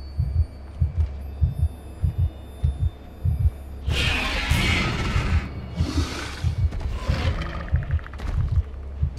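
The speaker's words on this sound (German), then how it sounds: "Dass das Vieh meinen Herzschlag offensichtlich nicht hört, finde ich auch ein bisschen komisch." A loud heartbeat in the horror game A Quiet Place: The Road Ahead keeps a steady, deep double-beat rhythm throughout, while a creature's rasping roars and growls rise over it midway.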